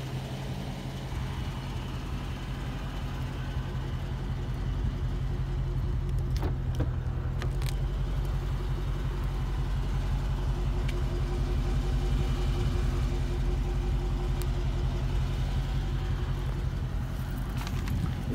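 A Dodge Charger R/T Scat Pack's engine rumbles at a steady, deep idle throughout, with faint clicks and light handling noises over the continuous low drone.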